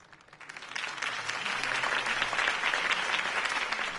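A crowd applauds a campaign speech for a city election, the clapping swelling quickly in the first second into a dense, sustained ovation.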